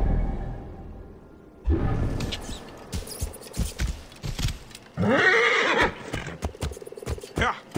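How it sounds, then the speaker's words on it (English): A horse in Assassin's Creed Origins neighs and whinnies loudly in two bursts, with hoof clip-clops and restless game sounds between, agitated and close. "Why is the horse acting up so much?"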